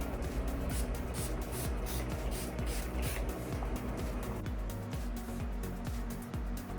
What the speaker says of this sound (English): I'm just going to go ahead and set it with the Urban Decay All Nighter Spray